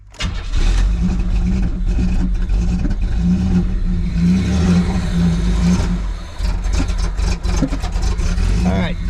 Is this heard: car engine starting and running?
yes